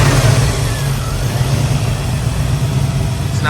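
An LS V8 swapped into a BMW E36 runs rich on its first start, a loud, close engine rumble that surges slightly at the start and then settles into an uneven idle.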